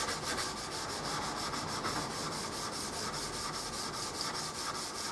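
Sandpaper rubbed by hand along a tapered-tang knife, steady rhythmic back-and-forth scratching strokes, evenly paced, close and moderately quiet, with no voices.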